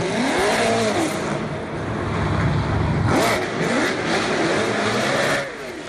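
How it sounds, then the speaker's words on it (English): A Ford Mustang revs and drives past outside St Paul's Cathedral at a wedding, engine surging in several rising and falling sweeps, fairly close and loud amid street noise. "he turned up in a Ford Mustang"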